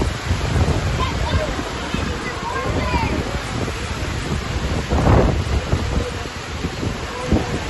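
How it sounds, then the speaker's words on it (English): Heavy rain pours down steadily in Galveston, Texas, with a low rumble of thunder, a loud continuous wash of storm noise. "then it started raining"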